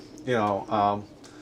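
Racing pigeons in a loft giving two close, mellow coos in quick succession, each a short rounded throaty call.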